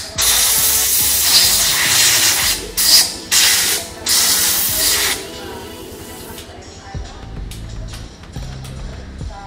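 Cleaner sprays onto the fuel pump of a Yamaha Sniper 150 motorcycle in loud, close hissing bursts, several long and a few short, then fades to quieter clicks and handling sounds.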